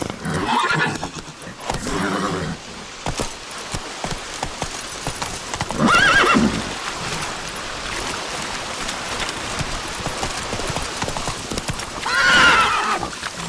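The horse Roach gallops in The Witcher 3 game, a steady rhythmic clip-clop of hooves throughout with rain in the background and a couple of whinnies, one early and another near the end.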